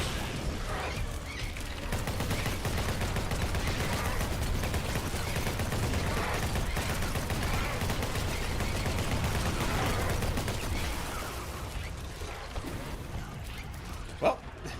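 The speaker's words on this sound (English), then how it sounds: "Max out that minigun." A minigun fires continuously in a fantasy video game with dragons, a dense, unbroken rattle of rapid shots at steady loudness that eases off near the end, capped by a single sharp impact.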